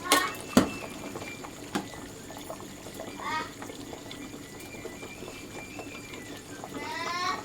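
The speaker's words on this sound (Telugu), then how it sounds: "ఉడుకుతుంది." Fish curry simmering in a pot gives a low, steady bubbling with a few sharp clinks and faint background noise.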